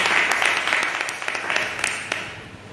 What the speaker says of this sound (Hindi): परमेश्वर के जोरदार तालियों से स्वागत करते हैं।